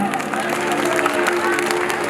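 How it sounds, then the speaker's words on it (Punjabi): Audience at a Punjabi live music show clapping for their parents, a dense burst of applause filling the short moment with crowd noise underneath. "ਇੱਕ ਤਾੜੀ ਵਜਾਓ ਖੁੱਲ ਕੇ ਆਪਣੇ ਮਾਪਿਆਂ ਲਈ"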